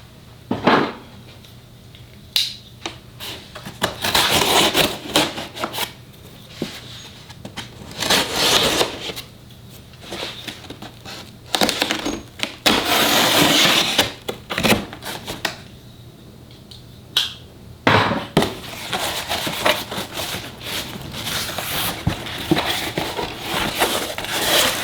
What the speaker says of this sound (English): we're going to go ahead and unbox what we have here